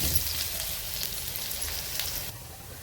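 Bottle gourd vadi frying in hot oil over lowered gas, a steady close crackling sizzle that holds at an even level throughout and eases slightly near the end.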